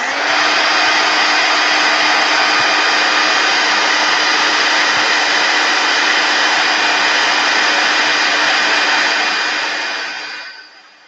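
A hair dryer dries paint on an art journal page, blowing a loud, steady whir close to the microphone for about ten seconds before it switches off and winds down.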